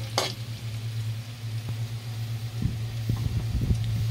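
Chili peppers dropped into chicken feet frying in a pan, giving a steady close sizzle over a low hum, with a few stirring clatters near the end.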